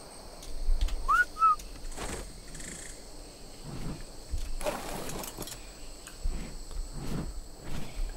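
Whistle commands blown in ARK Survival Evolved: two quick rising whistle chirps close together, set against a steady bed of ambient insect and bird sounds from the game world.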